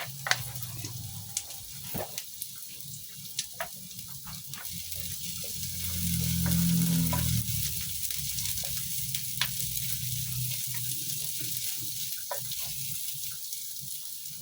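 Ginger sizzles steadily in a hot pan with onions, a soft hiss punctuated by small pops and crackles, swelling briefly midway as it's stirred.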